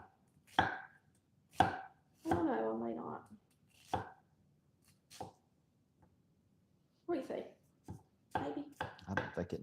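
A knife chops onion on a board in a few short bursts, some single sharp cuts and one quick rapid run, close and fairly quiet, with silence between strokes.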